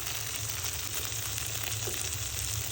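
Spices for a taro leaf curry sizzle and crackle in hot oil as the tempering goes in, a close, even hiss that runs steadily with no voices over it.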